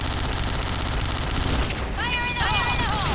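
Rapid gunfire from a competitive Point Blank deathmatch tournament, loud and continuous across the whole stretch, with a bright electronic tone rising near the end and voices talking over the shots.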